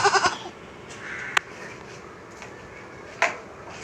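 Goats on a household farm, with a short bleat at the start followed by quieter background noise and a couple of sharp clicks or knocks nearby.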